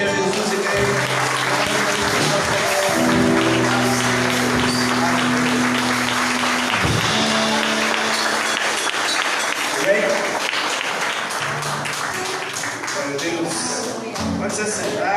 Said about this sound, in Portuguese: Você pode aplaudir a Jesus e cair.